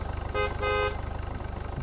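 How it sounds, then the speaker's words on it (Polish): In the Beer Factory video game, a car horn blares twice in quick succession, two close, loud, flat toots over a low rhythmic idling engine pulse. "Po co ty tak trąbisz?"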